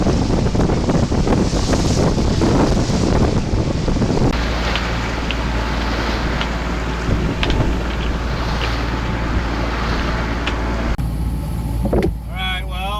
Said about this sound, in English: It was at this point the wind started to pick up.